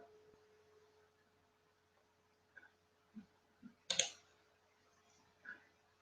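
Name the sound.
mouse clicks while booking a flight online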